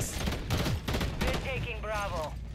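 Rapid gunfire from a video game gun fitted with a JAK Thumper, loud repeated shots in quick bursts with a voice talking partly over them.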